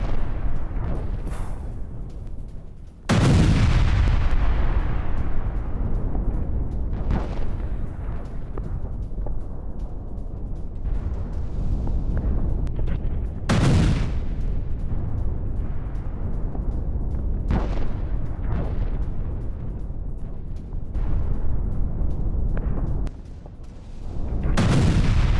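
Heavy explosions from a glide bomb strike on Kupiansk and a tank blast in eastern Ukraine. Three big booms roll out over several seconds, with smaller thuds and a constant low rumble between them, and no voices.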